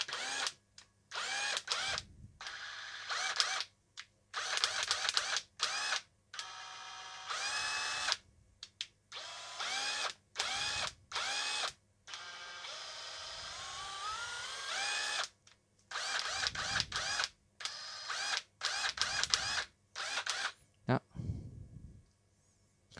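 A hand-picked used cordless drill runs in repeated whirring bursts, starting and stopping throughout, loud and close, with a voice speaking now and then between runs.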